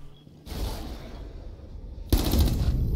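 Gunfire from Twitch's weapon in the Rainbow Six Siege video game, two loud bursts of rapid automatic fire, the second sharper and closer, separated by a quieter gap.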